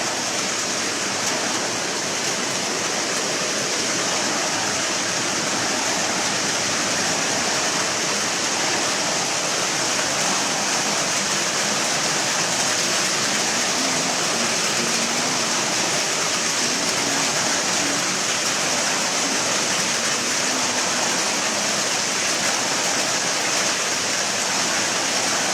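A torrential monsoon downpour roars continuously, close and heavy, a thick wash of falling water with no talking over it.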